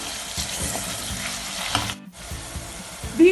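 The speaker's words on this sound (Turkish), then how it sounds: "1 yemek kaşığı domates salçamı da içerisine ilave ediyorum. Ve onunla da kavurmaya devam ediyorum." Tomato paste sizzles and fries in a pan as it is sautéed for a pea stew, a steady close crackle with a few stirring scrapes and a brief lull partway through.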